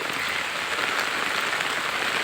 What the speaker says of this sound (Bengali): তুমুল বৃষ্টি সকাল থেকেই বৃষ্টি এরকম নামছে